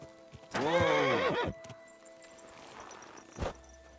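A horse in the video game Kingdom Come Deliverance 2 gives one loud, close whinny lasting about a second, followed by a few soft hoof clops and a brief knock, with no talking.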